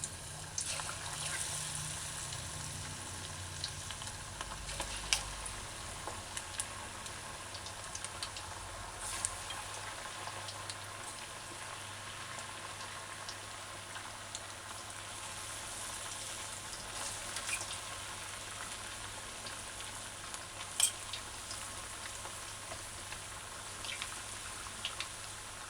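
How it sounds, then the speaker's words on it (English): Chicken wings frying in heating oil, a quiet continuous sizzle with faint crackles and occasional small pops spread through the stretch, soft and close with no talking. "take each piece, not dripping with butter, and then add it to the heating oil"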